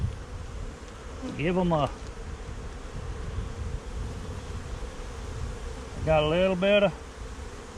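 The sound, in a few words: honeybees buzzing around a hive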